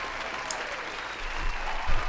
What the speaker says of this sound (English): Here's another round of applause for you